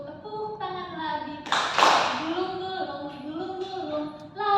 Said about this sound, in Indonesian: Buka tutup, tepuk tangan lagi